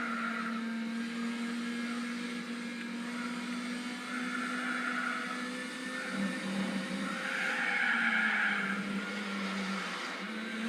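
A car engine in Gran Turismo on a PlayStation 2 drones steadily as the car understeers, with a tire squeal rising and swelling toward the end, and no talk.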